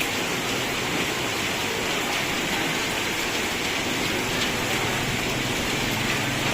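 Heavy rain pours down steadily, a dense, loud hiss of water hitting surfaces with no let-up and no voices.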